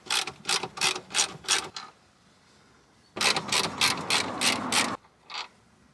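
A ratchet backs out two 16mm bolts from a lower control arm bushing, giving two bursts of rapid, loud metallic clicking separated by a quiet pause, close up with no speech.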